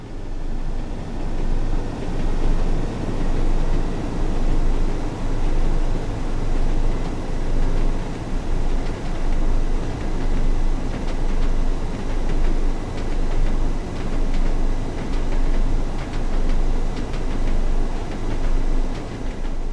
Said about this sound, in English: This Class 101 diesel mechanical multiple unit features a geared transmission, meaning the driver must throttle off, change gear, and then throttle up again to reach higher speed